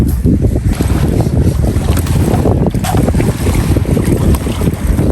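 A boat's motor churns loudly on open water near the Batticaloa lighthouse in Sri Lanka, with heavy wind buffeting the microphone and water splashing against the hull.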